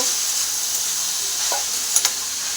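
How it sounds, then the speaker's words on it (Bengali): Potatoes with chili, turmeric and oil frying in a pan, a steady bright sizzle throughout with a couple of soft scraping stirs near the end, no voices. "এক ফুটুসখানি তেল দিয়ে দিলুম, তারপরে একটু নেড়ে চেড়ে একটু ভাজতে দিয়ে দিলুম।"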